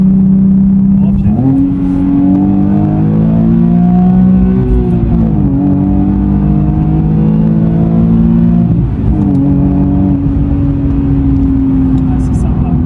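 A Nissan 370Z Nismo engine accelerates in loud, rising surges, with two or three clear gear changes breaking up a steady, close-up roar.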